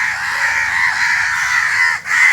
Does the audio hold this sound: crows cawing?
yes